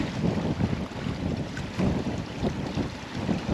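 Strong wind rushing over a sailboat under sail, a continuous gusty rumble that swells and eases, with faint water sounds blended in and no voices.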